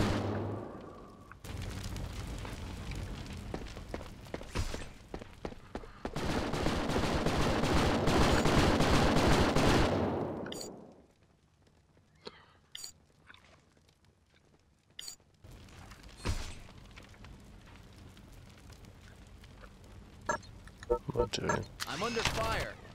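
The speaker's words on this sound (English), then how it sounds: "I'm under fire." Gunfire in a Project Eden level set in a shopping mall, heavy sustained shooting in the first half followed by sparse sharp shots, with voices talking at points.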